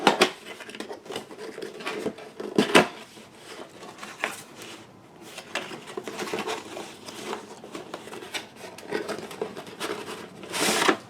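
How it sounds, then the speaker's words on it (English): A cardboard box holding a personal ring planner is opened, with close, intermittent rustling, scraping and tearing bursts separated by short quiet gaps. "Now we got to open the box."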